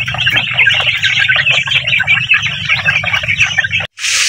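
Many chicks in a brooder cheep and peep continuously at close range, a dense, busy chorus over a low steady hum, cut off briefly near the end.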